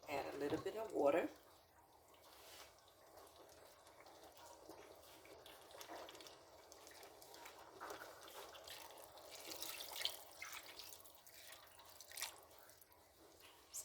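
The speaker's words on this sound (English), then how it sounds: "So you just add a little bit of water in there." Water is poured into chicken frying for African brown stew, giving a brief splash and trickle at the start, followed by quiet, faint dripping and soft sizzle with a low voice in the background.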